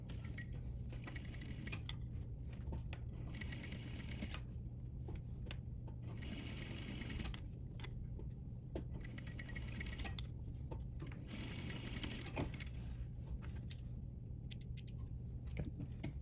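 A sewing machine edge-stitches fabric in quiet, rapid whirring runs broken by short pauses, with the rhythm of repeated starts and stops.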